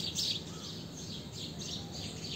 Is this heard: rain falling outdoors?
no